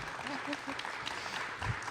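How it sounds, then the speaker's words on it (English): Audience applause for a guest speaker at a live chamber of commerce event, steady moderate clapping from a small room crowd, with voices mixed underneath. "Folks, big round of applause for Hilary Kramer."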